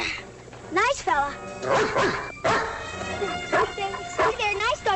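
A dog barks and yips in short repeated bursts near a man who is calmly talking to it, with the barks coming in clusters between his words.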